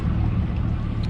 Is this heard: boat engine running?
yes